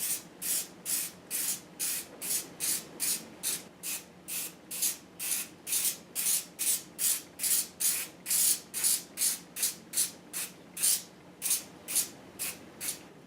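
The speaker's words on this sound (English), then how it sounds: "Just basically we're going to spray a couple thin coats." Short hissing bursts from a spray adhesive can repeat in a quick, steady rhythm, roughly two per second, close by and continuing throughout, applying thin coats.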